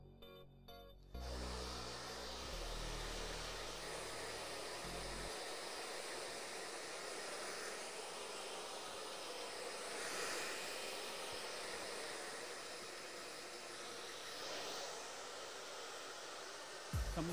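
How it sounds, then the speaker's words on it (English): Handheld blow dryer drying hair after a disconnected pixie haircut, roaring with a steady close hiss for most of the stretch after a brief rumbling start, with no talk. "Now, I always like to hit it with a blow dryer."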